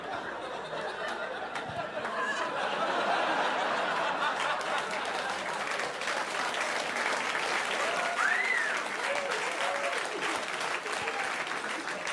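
Sustained audience applause fills a stand-up comedy show, dense and steady for the whole stretch with a hint of scattered laughter mixed in, loud and close with no voice on top.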